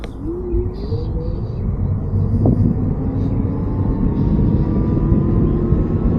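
An Okai electric scooter accelerates, its thin motor whine climbing steadily in pitch over a constant rush of wind noise, with no talking.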